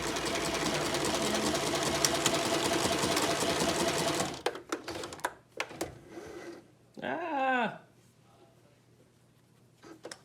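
A sewing machine runs in a fast continuous stitching whir while sewing fabric masks, then stops, leaving a few clicks, handling noises and a short squeaky mechanical sound.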